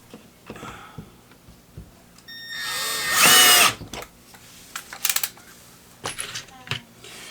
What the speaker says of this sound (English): Time to put the screws back in.